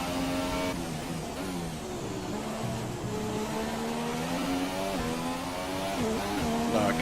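Formula One car in the racing game F1 2017 at the Hungaroring, its gearbox damaged with gears lost, whines steadily at high revs with uneven shifts and pitch dips, continuous and loud with no talking.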